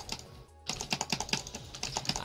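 Rapid, loud clatter of computer keyboard keys during gaming, a dense stream of sharp clicks after a brief pause, close to the microphone.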